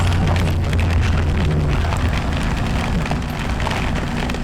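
Rain hisses steadily in a dense wash of patter while a motorbike engine hums low underneath during a ride, with rushing noise throughout and no voices.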